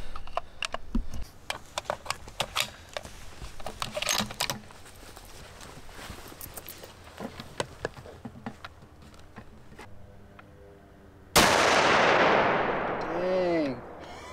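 A 2020 Waypoint rifle shoots at a steel target 300 yards out. Scattered small clicks and handling noises lead up to a single loud, sharp shot that rings out and decays over a few seconds.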